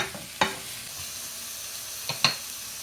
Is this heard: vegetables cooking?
yes